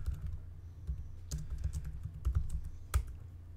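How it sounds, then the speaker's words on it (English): Soft, fast typing on a computer keyboard during live coding of a multigroup CFA analysis in R, with irregular key clicks and a few sharper taps over a low room hum, no talking. "This is why I don't like live coding. Normally I actually can't type hardly at all."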